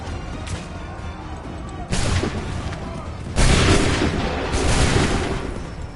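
Booming cannon fire in an Assassin's Creed battle, several heavy blasts arriving one after another, loud and close, rolling into a sustained rumble with shouted commands around them.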